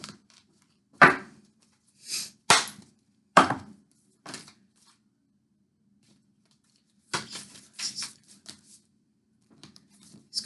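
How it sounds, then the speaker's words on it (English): Deck of tarot cards shuffled by hand in a quiet room, a series of crisp riffling bursts and slaps that come in clusters, with pauses and faint handling sounds between them. "These cards are hard to shuffle."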